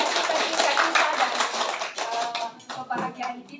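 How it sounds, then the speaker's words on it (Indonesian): A congregation clapping their hands together at a church gathering, a dense wash of claps that thins out and fades toward the end, with faint voices underneath. "kita tepuk tangan atas sukacita kita"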